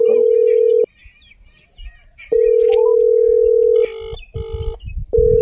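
A telephone is dialed for a call: a loud steady dial tone is broken off, then returns and gives way to a quick run of keypad beeps, with room noise in the gaps.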